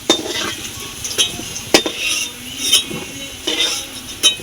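Fried potatoes are scooped out of a pan of hot oil, with a light sizzle under several sharp metal scrapes and clinks of a spatula against the pan, near and without speech.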